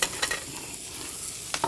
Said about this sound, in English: as long as the pan's hot, you can hear it sizzling nice